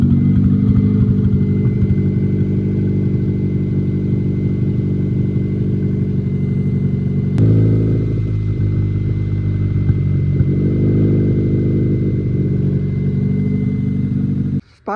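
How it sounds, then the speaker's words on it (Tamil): A 2014 Maruti Swift K-series engine idling with a misfire, a close, loud, steady low drone with a slightly uneven beat, a sudden shift in tone midway and an abrupt cut at the end. "வண்டி ஸ்டார்ட் பண்ணுங்கள். ஃப்ரெண்ட்ஸ் அதோட மிஸ்ஸிங் பாருங்கள்."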